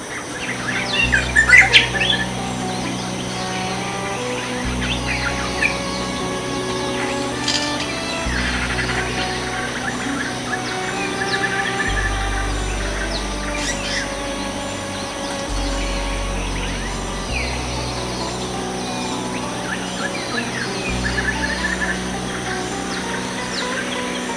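A drongo and other birds call through a Thai rainforest, with dense chirps, tweets and occasional squawks layered over a steady droning insect and forest background, fairly loud and continuous throughout.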